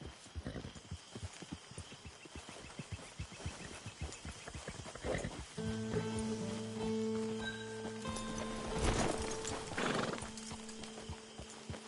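In Red Dead Redemption 2, a horse's hooves clip-clop in a quick, even rhythm, then a long, loud whinny rings out close by, with a short second neigh following.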